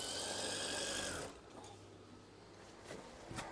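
Sewing machine stitching a folded eyelet swag curtain, a dense steady motor whir for just over a second before cutting out, leaving quieter fabric handling and a few small clicks, close and fairly soft.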